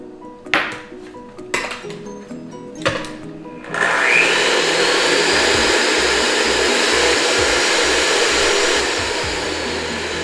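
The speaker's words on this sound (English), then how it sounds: "we'll start to beat our egg whites to a stiff peak" Egg whites being beaten for chocolate mousse with an electric mixer. A few clinks of a bowl come first, then a loud, steady motor whir that runs continuously to the end.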